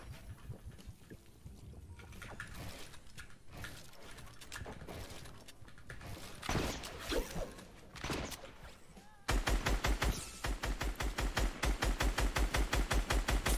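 Gunfire in the Fortnite video game: scattered shots among other game noise, then a fast, steady volley of loud, evenly spaced shots through the final seconds.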